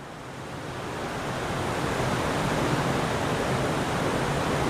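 The Gosthani river pours through a gap inside a cave, making a steady, dense roar of falling water that fills the space evenly and grows slightly louder, with no voices.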